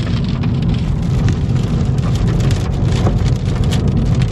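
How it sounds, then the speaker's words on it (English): Loud, steady rain pours down in a storm, a dense close hiss of drops drumming on surfaces with a low rumble underneath and no talking. "It's officially raining, guys."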